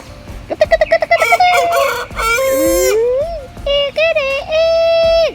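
Backyard chickens bought about three months ago cluck and a rooster crows in a series of loud, close calls, including a long drawn-out crow near the end, with no talk over them.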